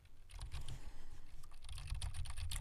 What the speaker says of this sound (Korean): 컴퓨터를 사용하는 상황을 가정하여 키보드를 타이핑하며 녹음해 보겠습니다